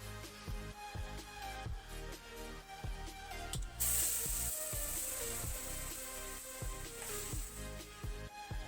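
Dry chillies and mustard seeds frying in hot oil for a raw mango sour dish, with a steady sizzling hiss and repeated sharp crackles and pops that swell into a louder spray of spitting about halfway through.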